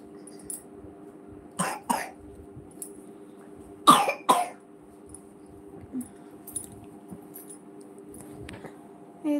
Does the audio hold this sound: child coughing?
yes